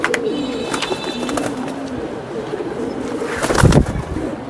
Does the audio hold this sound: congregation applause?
no